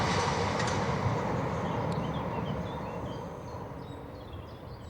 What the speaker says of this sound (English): the train has just left Staplehurst